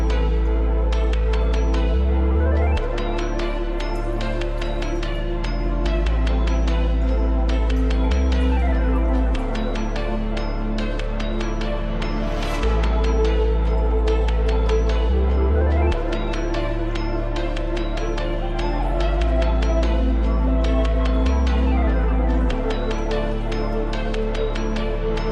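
A looping music sample built on a bright, plucky synth from a Flex preset bank rides over a steady, repeating deep bass pattern, loud and dense throughout with a rhythmic, cyclic feel.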